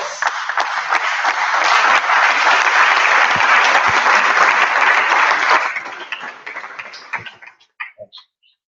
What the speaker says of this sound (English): you have also give yourself a big applause